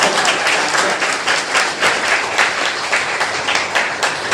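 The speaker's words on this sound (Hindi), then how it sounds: "आप ही लोगों से एक जोरदार ताली बजा करके आप लोगों का स्वागत करता" Students at a university education department induction meeting give loud, sustained applause that fills the room steadily from start to finish, with no voices breaking through.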